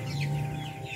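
Chickens cluck softly at a village poultry farm raising about a hundred chicks, a brief, fairly faint burst of clucking over a low steady hum, with no talking.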